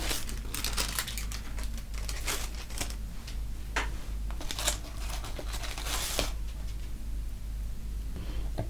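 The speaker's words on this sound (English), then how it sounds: "So underneath that we have some gold tissue paper" Gold tissue paper crinkles and rustles steadily throughout as it is handled while unpacking a witch-themed subscription box, with sharper crackles coming close up, no voices.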